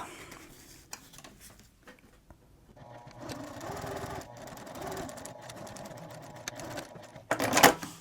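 A home sewing machine stitches a Freedom hip bag, running in short bursts, first sparse and faint, then a longer steady whirring run, ending with a louder clattering burst close by.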